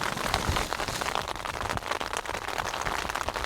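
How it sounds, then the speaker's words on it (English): Freezing rain drums on the roof of a car during a storm, a dense, continuous patter of close drops with no pauses and no voices. "It's just started raining again."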